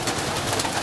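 Pigeons coo inside a dovecote, a close, soft burbling murmur of several birds filling the brief moment without speech.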